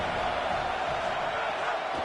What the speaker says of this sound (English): The crowd getting behind this defense